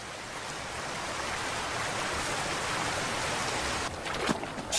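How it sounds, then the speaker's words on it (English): Heavy autumn rain pours down in the Great Bear Rainforest, a dense steady hiss of drops on leaves and surfaces, loud and continuous, with a brief louder patter near the end. "now the autumn rains have really picked up"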